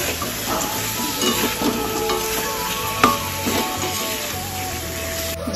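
Fried rice being stirred in a hot pan with pre-fried chicken mixed in, a steady close sizzle with scraping strokes and one sharper clack near the middle, continuous for several seconds.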